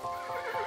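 A horse whinnies in the video game Kingdom, a short, loud, wavering neigh with a faint clip-clop of hooves beneath it.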